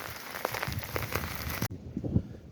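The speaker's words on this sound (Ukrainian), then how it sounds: "Вже добу у нас дощик іде" Steady rain patters on a surface nearby at an outdoor summer nutria enclosure in Mykolaiv Oblast, Ukraine, with scattered drips and splashes over a soft wash of falling water.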